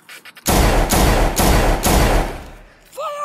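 Gunfire in a World at War video game battle roars in dense, loud, rapid bursts of repeated shots, with a voice coming in at the end.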